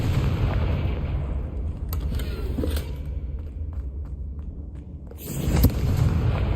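Confringo fire spell blasts in the video game Hogwarts Legacy: loud booming explosions with rumbling tails, one at the start and another near the end, and quieter crackles and footsteps in between.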